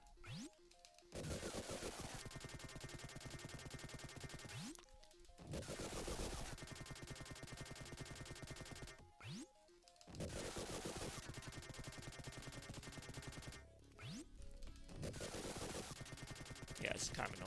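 Rapid missile and gunfire bursts from the Sega Genesis game Vectorman, long dense volleys of crackling shots broken by short pauses and falling synth sweeps, loud and continuous.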